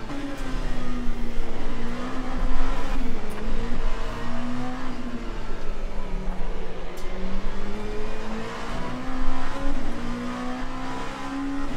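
Race car engines roar in Le Mans Ultimate during a 30-minute race at Sebring, a loud continuous engine drone whose pitch rises and falls with acceleration and gear changes, steady throughout with faint passing noises.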